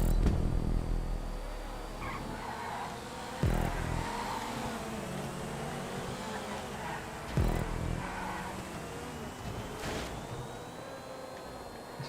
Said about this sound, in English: Listen to the roar of the engine.